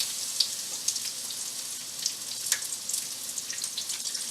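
Grated zucchini fritters sizzle in a frying pan of hot oil, a steady close crackling hiss dotted with sharp little pops and spits, with no voices over it.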